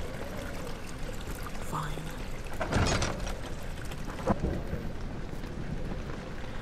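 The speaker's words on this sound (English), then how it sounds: "Oh, it's raining." Rain falling steadily with a low thunder rumble in the Amnesia video game, a continuous wash with a couple of heavier swells, while someone talks briefly over it.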